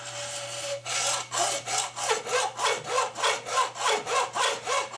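A hacksaw cuts through 1 1/4 inch PVC pipe in a steady rhythm of about a dozen close, even back-and-forth strokes, heard alone with a faint hum beneath.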